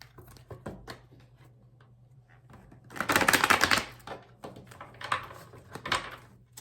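Quick riffling and tapping of cards, a burst of dense shuffling in the middle and a few lighter flicks after, close by with no talking.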